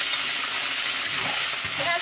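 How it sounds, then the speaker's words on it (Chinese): Ginger, garlic and pickled vegetables drop into hot oil in a Sichuan home kitchen, giving a loud, dense sizzle that crackles steadily throughout the brief moment. "油烧热，把姜蒜泡菜哈丢下去"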